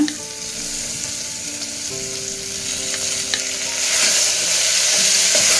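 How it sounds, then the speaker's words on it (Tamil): Onion and tomato dropped into a hot frying pan: a loud close sizzle that swells and brightens as the vegetables hit the oil, with faint scraping stirs and no talking. "இப்போ இதில் நாம் வெங்காயம் தக்காளி ரெண்டையுமே போட்டுக்கலாங்க"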